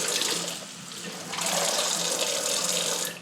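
Small stream of water poured onto a tiny potted Catasedum 'Baker's Burgundy Smile' succulent, a steady close splashing trickle that briefly eases, then swells again, with no one speaking.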